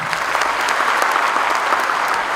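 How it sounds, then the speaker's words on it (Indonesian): A lecture hall audience claps hands together at a university lecture, loud and dense clapping that continues evenly through the whole moment with no speech. "Tepuk tangan."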